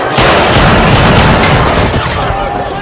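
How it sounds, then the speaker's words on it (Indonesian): A fierce action-film gunfight plays loud and dense: booming shots and gunfire blend into a continuous roaring wash, with a voice talking over the chaos throughout. "memicu aksi baku tembak yang sengit"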